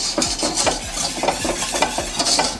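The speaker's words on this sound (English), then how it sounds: "we pour all that in and make sure to whisk it in so we don't get any lumps of pectin into the puree" Sugar and pectin being whisked into fruit puree in a patisserie kitchen, with quick rhythmic whisk strokes scraping and clinking against the pot, close and steady over a soft wet swishing, no voices.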